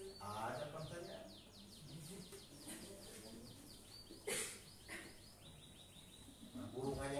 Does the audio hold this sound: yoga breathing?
no